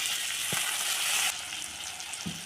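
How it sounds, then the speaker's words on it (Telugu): Onions and garlic frying over a medium flame with turmeric and curry leaves for egg bhurji, a dense steady sizzle with a couple of brief spoon stirs, close and continuous. "కొన్ని ఉల్లిగడ్డలు వేయాలండి కొద్దిగా ఎల్లిపాయ ప్యాకేజ్ మీడియం ఫ్లేమ్లో పెట్టి కలపాలండి పసుపు కరివేపాకు"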